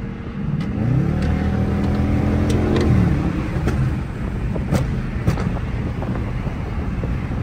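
A flame-tuned Dodge Charger R/T drives along a highway, its exhaust rumbling steadily with wind noise and a few sharp crackling pops scattered through the run.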